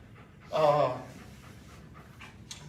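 A retiring police K-9 dog pants close by, with one louder breathy burst followed by softer, quicker breaths against a low background murmur.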